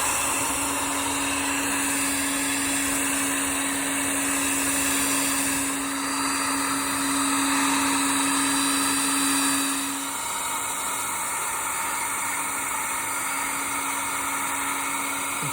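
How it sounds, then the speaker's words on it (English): A heat gun runs continuously on the handlebars of a 1975 GL1000 motorcycle, a steady close whine and airy rush with a pitch dip midway, no talk over it. "I thought I would try my heat gun and see if I can accomplish the same."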